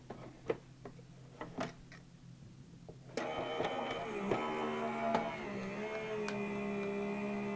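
Electric die cutting machine feeding a craft card sandwich of plates and die, a few soft ticks and clicks, then a steady motorized hum with tonal whine that runs on to the end.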